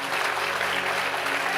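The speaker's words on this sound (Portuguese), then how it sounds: "Você pode aplaudir a Ele em nome de Jesus." A church congregation applauding during a sermon, a dense, steady wash of clapping from many hands that fills the whole stretch without pause.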